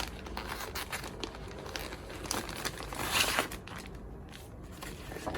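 A stiff plastic packet holding a ChiaoGoo set crinkles and rustles close by, with a few sharper crackling bursts in the middle and no talking.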